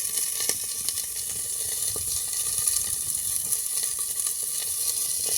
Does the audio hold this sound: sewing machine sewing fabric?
no